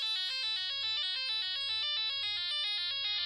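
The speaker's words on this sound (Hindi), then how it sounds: "अब तो फोन उठा लो।" Mobile phone ringtone playing a repeating electronic melody of bright stepped tones, several cycles in a row, clear and steady with no voices.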